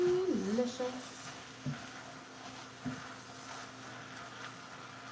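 Tomatoes sauté in a pot for tortellini soup, giving a low, steady sizzle broken by a few soft utensil knocks, under a faint background hum.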